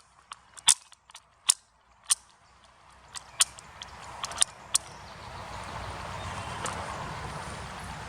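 Ten rifle rounds thumbed one by one into an SKS magazine give a close series of sharp metallic clicks at irregular intervals, over a faint background hiss that grows slightly louder.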